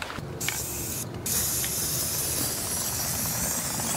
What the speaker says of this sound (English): I outline the ramp frame with some spray paint.